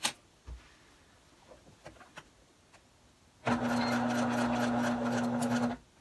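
A sewing machine stitches fabric for a toy car activity mat. A few small clicks and handling sounds come first, then a steady, close whirring run lasting about two seconds with no talk.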